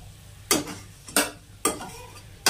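Ivy gourd (kundru) cooking in a pan, a low background sizzle broken by four evenly spaced sharp scrapes of a spatula against the pan.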